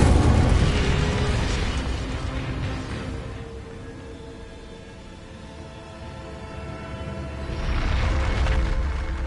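Spell-casting blasts from the Hogwarts Legacy video game, fire and disarming charms, bursting loudly at the start and again near the end, with a quieter rumbling stretch between and no talk.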